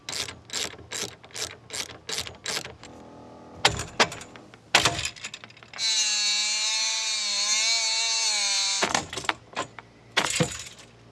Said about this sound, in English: Got an angle grinder. I know it's a Ryobi